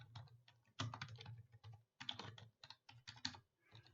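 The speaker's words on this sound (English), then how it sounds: "Now obviously I'm just typing something simple in here just so that I can go through this." Quick, uneven bursts of keystrokes on a computer keyboard, recorded close while someone types simple text into web page fields. The clicking runs in short clusters with brief pauses and no talking.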